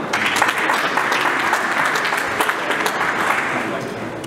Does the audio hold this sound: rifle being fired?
no